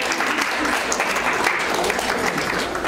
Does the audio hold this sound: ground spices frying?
no